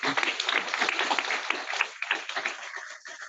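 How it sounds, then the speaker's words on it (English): A town hall audience gives a short round of applause, close and crisp at first, then thinning out and fading toward the end. "So just a quick round of applause for that."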